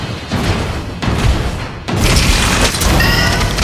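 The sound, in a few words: turret destroyed explosion in Mobile Legends video game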